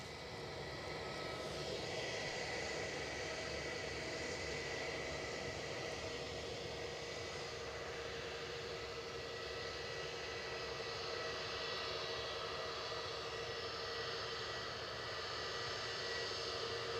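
An EasyJet airliner taxiing past at Edinburgh Airport gives a steady, distant jet-engine whine and broad rushing roar, faint but continuous for the whole stretch with no talk.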